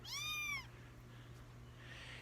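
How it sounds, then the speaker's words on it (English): A calico cat gives one short, clear, nearby meow at the start, followed by quiet room hum. "Little calico cat right there."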